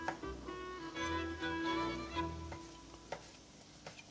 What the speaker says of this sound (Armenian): մի փոքր սոխառածի հետ միասին տապակում ենք միսը